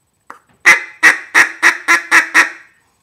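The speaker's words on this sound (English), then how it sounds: "the clucks are just, I'm basically saying, ka, ka, ka, ka," A duck call blown in a quick clucking run: one faint tap, then seven sharp, evenly spaced clucks, loud and close, with nothing else around them.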